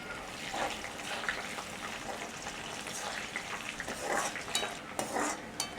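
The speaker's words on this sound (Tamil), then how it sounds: "இஞ்சால பார்த்திங்கன்னு சொன்னால் வெங்காயம் பொரியுது." Onions and curry leaves frying in a pan with okra, a continuous soft sizzle and crackle with occasional stirring scrapes, close and fairly quiet, no voices.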